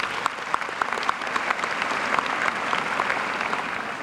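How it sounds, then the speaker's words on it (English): A crowd at a high school graduation ceremony claps steadily, a broad wash of applause with individual sharp claps popping out, heard at moderate distance without talk. "Please give them a hand."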